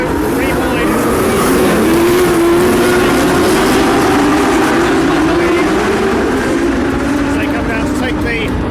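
Race car engines roar loudly through the final lap of a live-action arena show, a steady droning whine with shifting pitch as cars pass, under a commentator's continuous talk.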